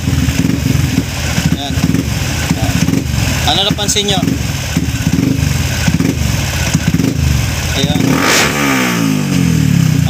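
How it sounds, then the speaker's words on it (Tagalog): A motorcycle engine with a newly tuned ECU idles and revs up sharply a couple of times, loud and close, while someone talks over it in Filipino. "Tsaka, pakinggan nyo yung tunog ng makina."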